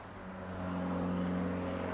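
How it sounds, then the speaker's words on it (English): A passing car with a loud aftermarket exhaust drones steadily in the background, a low humming growl that swells slightly louder midway through, with no speech over it. "That's somebody's car you hear in the background."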